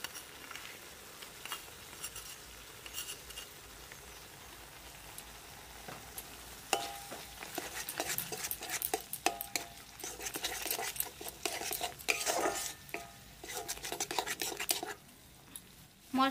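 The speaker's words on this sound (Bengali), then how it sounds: "মশলাটা ভালো করে কষিয়ে নেব।" Spice masala for a village-style paneer dish sizzles and fries in a pan, with a steady hiss and scraping stir strokes and clinks growing busier toward the end, close and without talk.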